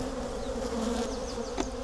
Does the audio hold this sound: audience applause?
no